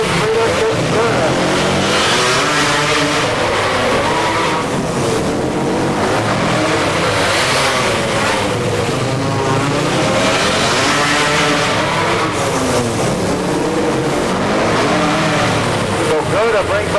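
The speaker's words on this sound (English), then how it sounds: "More times around for race leader Chris Gerda." Quads and motorbikes roar around the Orange County Fair Speedway Thunderdome, engines revving and rising and falling in a continuous loud wash while an announcer talks over the racing.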